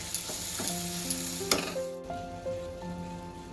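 Lote fish frying in a pan, a bright close sizzle with stirring clatter and a sharp scrape partway through, as a tonal hum of other sounds runs underneath.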